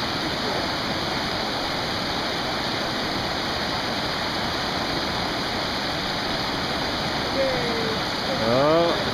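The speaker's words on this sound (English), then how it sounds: "There comes Lily trying to cross the creek." A mountain creek on the Cordillera Huayhuash trek rushes in a loud, unbroken roar of water, with a voice briefly rising near the end.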